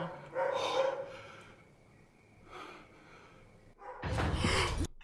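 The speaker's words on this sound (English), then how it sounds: "You know why the dog's barking, isn't it?" Dog barking in the distance, a few muffled barks spaced apart, with a louder burst near the end, against faint background noise and breathy sounds.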